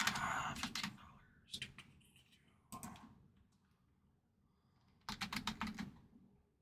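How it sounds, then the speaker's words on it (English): Bursts of rapid clicking on a computer keyboard come in four separate flurries with quiet pauses between, close to the microphone, with faint talk in the background. "Let me go ahead and type this out here."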